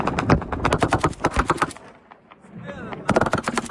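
Rapid, loud machine-gun bursts from air-defence fire in Ukraine as it shoots down a missile. The fire rattles close by, pauses briefly in the middle, then resumes in another burst.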